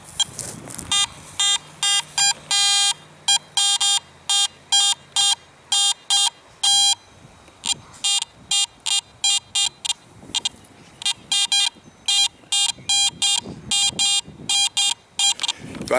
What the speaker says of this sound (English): So I just got me a scratchy little signal here.